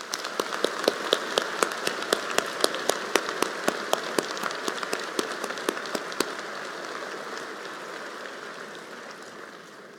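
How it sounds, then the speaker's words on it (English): Sustained audience applause at a university presidential inauguration ceremony, dense steady clapping from a large crowd with sharper individual claps standing out early on, then slowly thinning and fading toward the end. "Please join me in giving them a round of applause."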